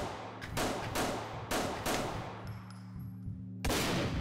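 Gunfire in Mirror's Edge, modified by the Ice Enhancer sound mod, comes as a series of sharp, loud bursts about half a second apart, with a brief high ringing between shots.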